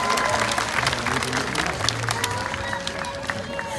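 An aquarium audience at a Long Island sea lion show gives a lively round of applause, with cheers mixed into the steady clapping and a presenter's amplified voice faintly underneath.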